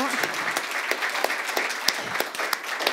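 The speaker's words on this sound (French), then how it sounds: "Donc, on peut l'applaudir vraiment." Congregation applauding in a church gathering, steady dense clapping with a few sharper claps standing out, moderately loud and continuous throughout.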